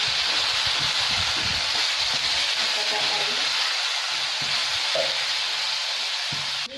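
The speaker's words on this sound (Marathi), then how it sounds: "आता आपण या कापलेल्या वांग्याच्या फोडी यामध्ये घालूया आता आपण वांगी छान मिक्स करून घेऊया तेलामध्ये" Cut eggplant pieces sizzle steadily in hot oil, a dense close frying hiss that holds throughout with faint stirring clinks and no talk.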